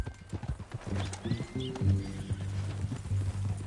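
Horse hooves clip-clopping in Red Dead Redemption 2, a steady walking rhythm of close hoof strikes with a brief whinny, under low game ambience.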